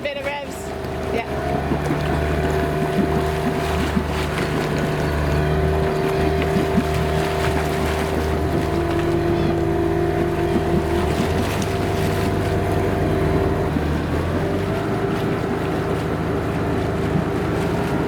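Outboard-type motor on a sailing family's boat near old careening poles, droning steadily and loudly for the whole stretch with wind buffeting the microphone; pitch holds fairly constant with slight rises, and voices call out over it.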